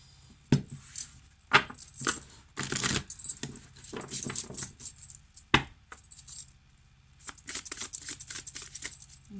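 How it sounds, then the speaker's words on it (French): Tarot cards are shuffled in bursts of crisp papery riffling and slapping, irregular bunches of sharp flicks separated by short quiet pauses, close and fairly soft. "Je bats un peu les cartes."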